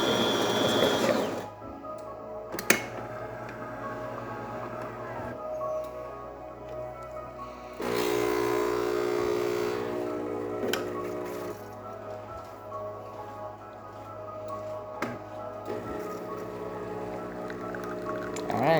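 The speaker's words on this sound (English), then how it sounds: "now we can redo our espresso shot" A De'Longhi Perfecta espresso machine, fitted with a new pump, brews an espresso shot with a steady, buzzing pump hum. The hum turns fuller and louder partway through and carries on without a break.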